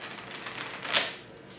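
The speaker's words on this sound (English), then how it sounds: "Hang on, I'm gonna shuffle the cards." A deck of playing cards is riffled in a soft, brief flutter that peaks once during a close-up magic trick, with no talking over it.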